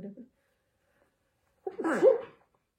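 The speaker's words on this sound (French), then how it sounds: "j'ai envie d'éternuer encore" A single close, sharp sneeze bursting out after a short pause, preceded by a brief voiced sound.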